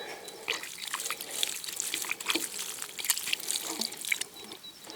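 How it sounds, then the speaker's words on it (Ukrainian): Water pours steadily from a watering can over hands being washed outdoors, a close, continuous splashing trickle with patter and drips. "Все, і ще одна лієчка з водичкою і руки помию."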